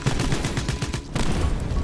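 Rapid automatic gunfire from the player's weapon in DieselStormers, a loud, steady stream of close shots that pauses briefly, then resumes.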